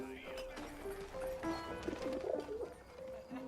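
Soft pigeon cooing from the video game 11-11: Memories Retold, a few low, rounded calls at moderate level over a steady ambient background.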